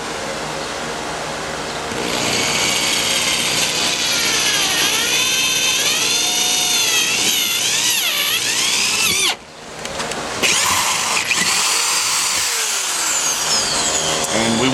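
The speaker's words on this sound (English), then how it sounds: "I'm going to take a drill bit. I think this is a 3/8," A loud, sustained power-drill whine with shifting pitch as a 3/8 bit bores through a panel for a Corsa side exhaust installation, briefly dropping off before resuming, with no talking.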